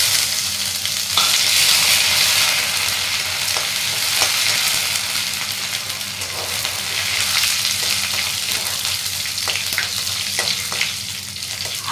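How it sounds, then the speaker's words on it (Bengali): Crushed ginger sizzles in hot oil with dry red chillies, cumin seeds and bay leaf, a steady broad frying hiss with occasional crackles and pops, close and continuous with no voices. "এবার দিয়ে দেবো থেতো করা আদা।"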